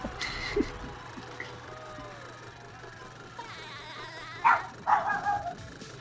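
Dogs barking in the video game SpongeBob SquarePants: Battle for Bikini Bottom, heard as a few short, fairly loud barks in quick succession near the end over quiet game ambience.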